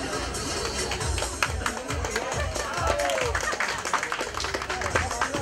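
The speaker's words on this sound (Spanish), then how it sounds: "El aplauso fuerte para" A crowd at a festival for the Virgin of El Cisne and Guadalupe in Queens, New York, applauds steadily, with sustained, moderately loud clapping throughout.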